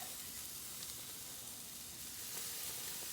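Burgers seared face side down on a hot cooking surface give a faint, steady sizzle and hiss, continuous and even throughout with no voices.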